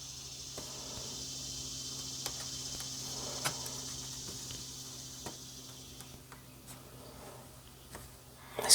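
A continuous high, buzzing insect drone like cicadas or crickets, steady and moderately faint, with occasional soft ticks and taps nearby.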